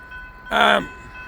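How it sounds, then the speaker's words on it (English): Freight train pulling out on the Kansas Midland Railroad, with a single short horn blast sounding clearly over a low rumble of rolling cars. "We'll be able to catch this train pulling out of here."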